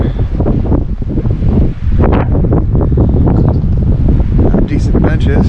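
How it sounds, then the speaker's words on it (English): Strong wind gusts blasting across an exposed lakeside campsite on a point in Algonquin Park, a loud, steady roar of wind noise hitting the microphone throughout, with a voice speaking over it. "Fire pit to get blasted by wind right now."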